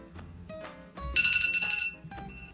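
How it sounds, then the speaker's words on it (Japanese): A mobile phone alarm rings in a bright, chiming melody that swells in the middle of the clip, fairly close, over some low background noise. "君の携帯の目覚ましが鳴ってるで。"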